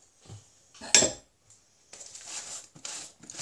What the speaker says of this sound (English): going to give that a bit of a stir.